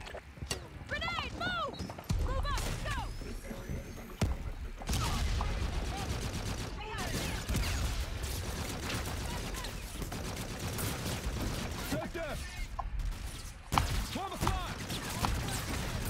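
Gunfire in a Call of Duty video game, repeated shots and bursts over sixteen seconds with explosions and impacts, a voice speaking over the shooting throughout.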